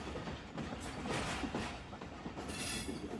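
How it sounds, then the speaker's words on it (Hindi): Steady rolling rumble and clatter of rail traffic near Khanewal Junction in Pakistan, where a goods train hauled by an NLC locomotive approaches, heard continuously with no talking. "सामने एनएलसी की पावर के साथ गुड्स ट्रेन नज़र आ रही है।"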